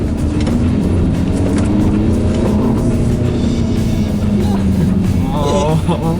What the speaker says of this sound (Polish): Opon nawet zapiszczały, ale jest dość zwarty.